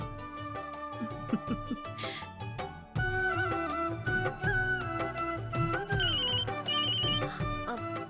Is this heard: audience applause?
no